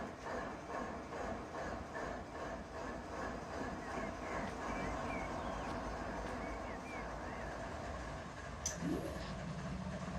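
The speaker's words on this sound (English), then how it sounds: "I'm going to start just this one engine." A locomotive engine idles in the Run 8 train simulator game, a steady low rumble with rail ambience that runs the whole time, plus a brief higher tone near the end.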